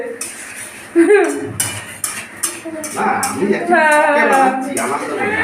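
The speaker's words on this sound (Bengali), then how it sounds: "আমি একটু খুন্তিটা একটু নাড়াই" A metal spatula scrapes and clanks against a cooking pot while ghugni is stirred, giving irregular knocks and scrapes with some faint sizzling, and voices talk over the kitchen noise.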